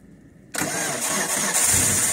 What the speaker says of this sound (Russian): Запуск двигателя Toyota. Газ в пол. Отлично завелось.